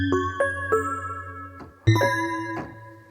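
A Korg Volca FM 2, a six-voice FM synthesizer, plays a randomized bell-like program: a run of bright, ringing struck tones over a low sustained drone, each chime decaying with shimmering overtones, loud and close with no talk.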